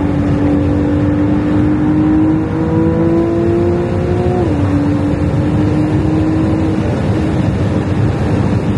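Ferrari 296 GTB supercar pulling hard on a road, a loud steady engine note climbing in pitch with a brief dip near the middle before carrying on, sustained throughout with no talk.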